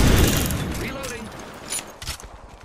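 Heavy gunfire in an Apex Legends battle royale match, a loud dense burst that fades into a few scattered shots and mechanical clatter.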